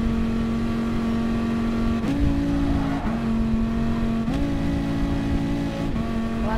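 A racing car's engine in a video game holds a steady high drone, and its pitch drops and jumps at each gear change as the car shifts into sixth, all loud and continuous.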